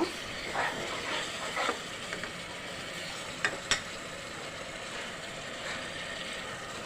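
Spice paste for chal-dal bhuna khichuri frying in a pan while being stirred, a steady broad sizzle with a few sharper scraping clicks of the spoon, fairly close and moderately loud, no voices.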